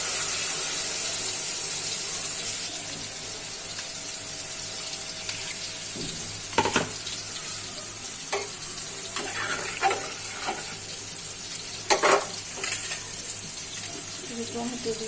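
Broth poured into a sautéed vegetable curry, a continuous watery rush and bubbling that settles into a simmer, with scattered clinks of stirring.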